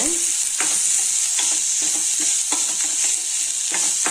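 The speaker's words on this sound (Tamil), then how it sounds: "நல்லா வதக்கி விட்டுக்கலாங்க." Chopped onions sizzle steadily in a hot pan while a utensil scrapes and stirs in irregular strokes, close and continuous with no talking.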